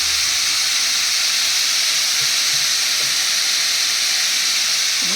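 Green chillies, two split and two whole, hiss and sizzle in hot oil for a vegetarian banana-stem curry, a loud, steady bright frying crackle with no voices over it.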